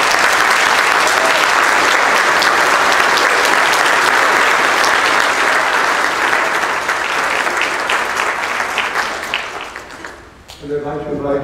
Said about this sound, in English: I would now like to invite all of our family, Parish family, to applaud you too.